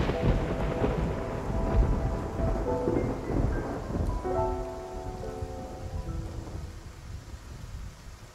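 Rolling thunder rumbles over heavy rain during a storm at sea, with a long booming roll rising and fading while rain hisses steadily underneath, and no voices over it.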